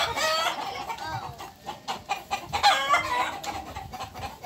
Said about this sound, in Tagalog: nagalit yung mga manok